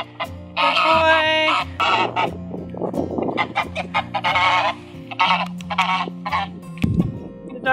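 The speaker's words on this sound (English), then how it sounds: "The ducks are sassing him." Farmyard ducks honk and quack loudly and insistently at a rooster, a near, busy chorus of overlapping calls with short pauses and a low grunt toward the end.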